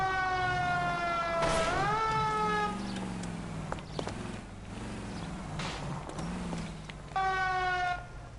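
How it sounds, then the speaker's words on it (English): An ambulance siren in the L.A. Noire video game on PS4 wails loud and close, its rising and falling tone sweeping repeatedly over a steady background rumble. "Oh, I've stolen the ambulance."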